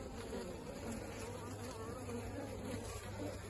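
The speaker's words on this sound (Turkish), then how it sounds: "şuradan arı görüyorsunuz. Alta giriyor şu" Honeybees buzz around a hive in a dense, continuous hum, with many insects droning at once, steady and fairly near, and no talking.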